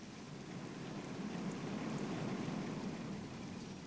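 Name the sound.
rain in the video game RollerCoaster Tycoon 3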